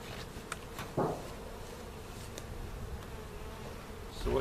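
Honeybees buzz continuously at a nuc hive, a close, steady drone with individual bees flying past the microphone now and then.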